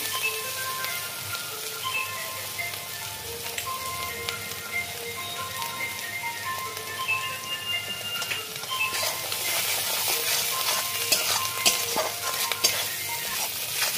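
Turmeric, salt and chili paste sizzle and fry steadily in hot oil while being stirred, a continuous close crackle that grows busier toward the end.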